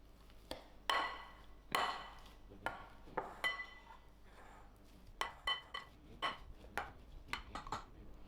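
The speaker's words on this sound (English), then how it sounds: "Firstly, I'm gonna smash my potatoes and also the garlic that boiled with." Boiled potatoes and garlic being smashed for mash in a pot, heard as a series of about fifteen sharp clinking knocks of a masher against the pan, irregularly spaced and fairly close, with no talking.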